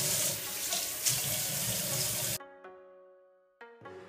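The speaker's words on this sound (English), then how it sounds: "I'm going to use my sink, and what you wanna do is just apply some warm water on your face before using it" Warm water runs steadily from a bathroom sink tap in a loud, close, hissing stream, then is abruptly shut off, leaving a few faint clinks and a brief ringing tone.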